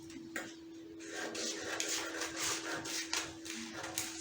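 Scissors cut through fabric for a bustier blouse, making a quiet run of close crisp snips and rasping slices with a soft, steady hum underneath.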